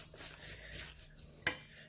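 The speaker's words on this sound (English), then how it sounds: "mix this together" Minced lamb meatball mixture with spices is stirred in a bowl, giving soft wet squelching and scraping, close and quiet, with one sharp clink of utensil against the bowl near the end.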